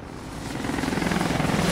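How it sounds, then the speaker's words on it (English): Helicopter rotors in the video game Resident Evil: Operation Raccoon City, a steady thudding chop that grows louder as the choppers approach, with no talk over it. "Here comes the party choppers."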